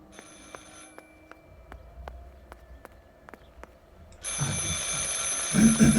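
A telephone rings in the video game Martha Is Dead, with repeated short ring pulses over a quiet room, then a louder burst of ambient sound takes over near the end.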